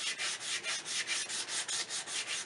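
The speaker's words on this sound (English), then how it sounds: "we're just going with the sanding with the grain, getting the round lines out, having it go with the grain" Wood for a ring dish is hand-sanded along the grain in steady back-and-forth strokes, about ten rhythmic rasping passes in quick succession, close and even.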